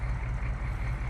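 A Chevy K5 truck rolls past out front, its engine a steady, loud low rumble that holds constant from start to finish with no voices over it.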